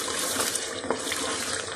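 Water is poured from a tap-like stream into chickpea and meat curry (chana gosht) cooking in a pot, a steady continuous splashing hiss lasting throughout, close and moderately loud, with no talking.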